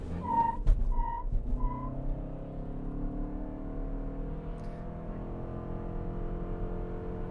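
A 2021 Toyota Highlander hybrid with a four-cylinder engine and CVT accelerates hard, its engine droning at a steady high pitch with a rising whine, after a few short whistle-like tones at the start, heard from inside the cabin.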